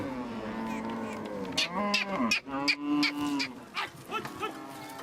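Dinka cattle mooing close by, a drawn-out low moo followed by further bellowing calls, with people talking faintly underneath.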